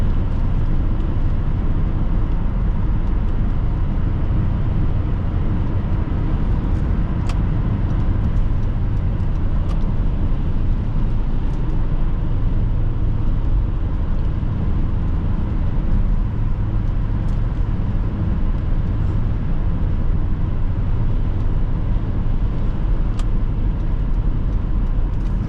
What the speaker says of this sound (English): it feels kind of scary trying to push this car above 70, especially in the rain with all that torque steer